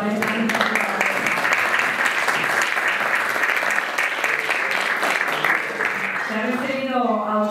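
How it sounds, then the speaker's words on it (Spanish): Audience at a European economics and competitiveness awards ceremony breaks into loud continuous applause, sustained for several seconds before a speaking voice returns at the end. "Un aplauso para esta."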